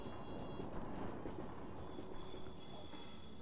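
A train rolls along rails in the video game Splatoon 3, giving a steady, quiet low rumble with a faint high metallic squeal on top, with no talk.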